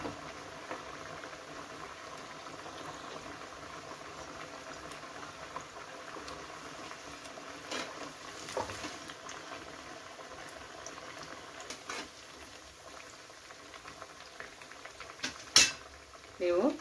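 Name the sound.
cabbage and moong dal vada batter cooking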